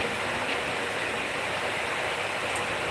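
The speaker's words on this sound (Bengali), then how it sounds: "প্রচণ্ড রকম বৃষ্টি হচ্ছে সেই সকাল থেকে" Heavy rain pours down continuously and water rushes across a flooded street, forming a dense, even roar of falling and flowing water with no breaks and no voices.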